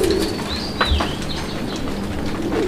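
Deshi raj golla and Madrasi golla pigeons coo close by with soft, throaty calls, and a faint chirp comes through over a steady background hum.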